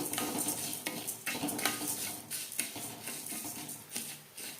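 Coriander, dried chilli, cumin and pepper dry roasting in a pan, with continuous rustling and scraping of a spatula stirring the spices and a faint crackle, no voices.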